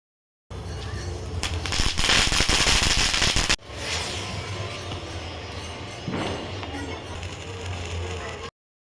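Firecrackers crackle and pop during Diwali night celebrations, a dense loud burst of rapid bangs followed by quieter scattered crackling further off, with faint voices in the background.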